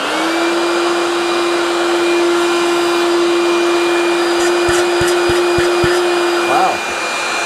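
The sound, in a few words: Dewalt DCV517 cordless vacuum running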